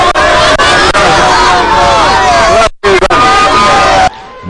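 A large crowd cheers and calls out with dense, loud shouting and babble, voices rising and overlapping. A brief cut of silence breaks it before the roar resumes, then it fades near the end.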